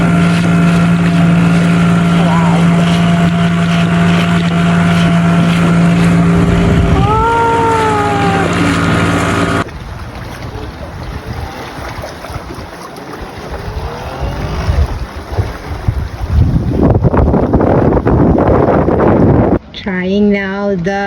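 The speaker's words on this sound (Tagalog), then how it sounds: "the dinghy is working" Electric dinghy motor running on open water in Greece, a steady drone with wind buffeting the microphone and people talking over it; the tone drops partway through as the boat moves on, then a brief tonal whine near the end.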